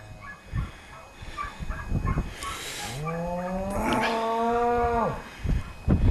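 Mother cows mooing while their calves are weaned, a soft start of rustling and outdoor noise, then one long, loud bellow sustained for about two seconds, followed by quieter movement.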